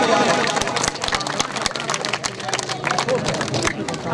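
Audience applauding during a prize presentation at a Khalsa event, a dense, steady patter of many hands clapping close by for the whole stretch, with crowd babble and voices mixed in underneath.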